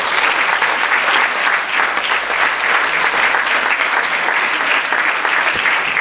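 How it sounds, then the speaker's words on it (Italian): Sustained theatre audience applause during cast bows after a stage comedy show, a dense, steady wash of many hands clapping close and loud for the whole stretch, with no voices rising above it. "un saluto e un applauso"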